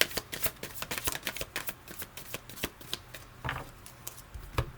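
Tarot cards handled and shuffled close by, a rapid patter of riffling card flicks with brief pauses, fairly quiet and alone.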